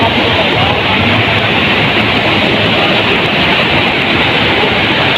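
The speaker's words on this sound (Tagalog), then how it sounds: "Yung ingay ng tubig na bumabagsak mula dito hanggang doon pababa." Loud, steady rushing of water falling at Balite Falls fills the air, a dense continuous roar with no pauses.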